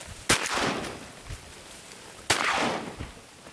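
Two loud shotgun blasts ring out during a snowy Nebraska duck hunt, about two seconds apart, each followed by a rolling echo across open marsh.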